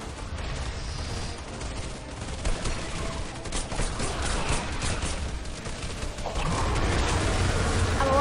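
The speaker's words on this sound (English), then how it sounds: "Gotta keep shooting." Continuous Fortnite gunfire during a Storm King battle, a dense steady wash of shots and explosions that grows louder toward the end.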